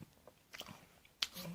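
A bite into a crunchy, tough Gala apple, heard as a short crisp crunch near the end after faint earlier chewing noises, close and fairly quiet, with no talk over it.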